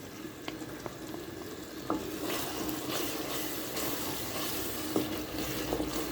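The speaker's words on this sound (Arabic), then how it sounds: "ونخلط المكونات مع بعضها" Ingredients for Tunisian pasta with chicken being mixed in a pot, a steady wet sizzling hiss with soft scraping stirs and a couple of light knocks against the pan.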